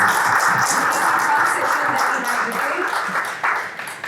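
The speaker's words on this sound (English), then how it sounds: "let's give him a real big round of applause" Audience applause at a Toastmasters club meeting, a moderate, steady patter of many clapping hands with faint voices underneath, continuing at even loudness throughout.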